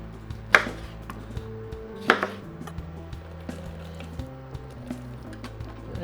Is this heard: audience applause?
no